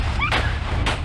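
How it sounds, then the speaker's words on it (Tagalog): A gun is fired close by, near a newborn baby, giving two sharp, loud reports about half a second apart over a steady low hum. "ang pagpapaputok ng baril malapit sa isang bagong silang na sanggol"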